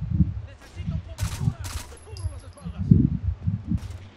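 Rapid gunfire bursts in the Rainbow Six Vegas campaign crackle alongside a speaking voice, with several clustered shots, and loud near-field thumps, during a short firefight.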